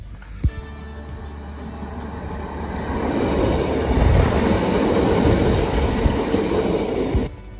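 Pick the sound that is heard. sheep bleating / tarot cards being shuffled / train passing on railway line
train passing on railway line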